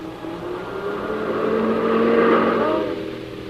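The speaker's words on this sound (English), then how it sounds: "Oh, Peter, there's a car." A car passes by as a sound effect in a 1940 CBS radio drama, its engine swelling from a low hum to a louder roar at mid-clip and then fading as it moves away, with no talking.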